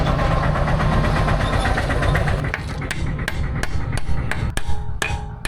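A seized wheel lock nut is struck with a hammer in a workshop, sharp metallic blows that come fast and then spaced out, over a running engine rumble.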